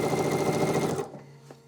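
A sewing machine quilts a full-size quilt with a cuddle fleece backing, its rapid needle chatter running steadily before stopping abruptly, then faint handling noises.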